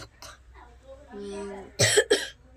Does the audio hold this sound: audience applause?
no